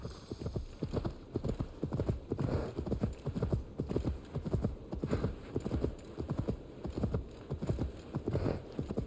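Hooves of a horse galloping in Assassin's Creed Valhalla, a fast, steady clip-clop rhythm that carries through the whole stretch, loud and close, with a brief whinny now and then and a faint voice in the background.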